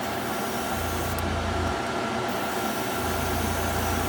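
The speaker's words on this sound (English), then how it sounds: "I'm spraying with my compressor at just around 18 pounds." Airbrush compressor at around 18 psi spraying pearl paint onto a jerkbait lure, a steady broadband hiss that runs continuously with a low motor hum underneath.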